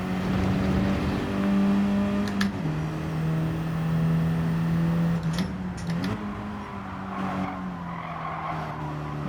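A race car engine in Gran Turismo 7 holds a steady high drone on a lap, shifting pitch around gear changes and corners, with brief tire squeal and skid noise, loud and alone with no talk.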